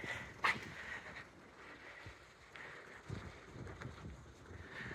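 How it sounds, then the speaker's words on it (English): Steady wind gusting and rushing outdoors on a morning in Crotone, Italy, with low rumbling buffeting throughout and a brief sharper noise near the start. "it's morning in crotone, and it is windy"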